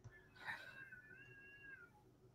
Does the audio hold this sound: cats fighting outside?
yes